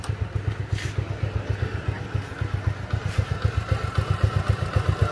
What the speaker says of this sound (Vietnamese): Máy chạy cực kỳ êm luôn nha anh em.